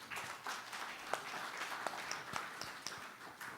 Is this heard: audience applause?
yes